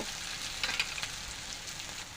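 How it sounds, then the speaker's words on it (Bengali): Ginger garlic paste and spices frying quietly in a pan, giving a continuous soft sizzle with a couple of faint stirring taps, close by. "আদা রসুন বাটা অল্প একটু ভেজে নিয়েছি"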